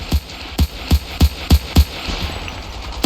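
Machine gun fire in the Ravenfield game on a WWI Passchendaele trench mod: six loud, evenly spaced heavy shots in quick succession, a brief pause, then another shot, close and punchy over faint ambient noise.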